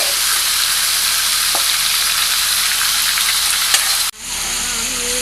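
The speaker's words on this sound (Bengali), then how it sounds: "মাংসটাকে খুব ভালো করে কষাতে হবে" Mutton frying and being stirred for Bengali-style khasir jhol, a loud, steady sizzle with occasional stir clacks, abruptly dropping off near the end, then resuming more softly.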